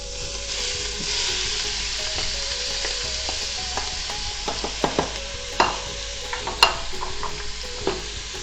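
A pound of ground beef fries in a couple of teaspoons of olive oil, a constant close sizzle broken by scattered spatula scrapes and taps that turn louder and more frequent toward the end, with no voices.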